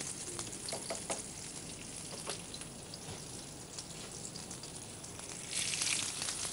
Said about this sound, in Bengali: পেঁয়াজটা একটু ফ্রাই করে নিব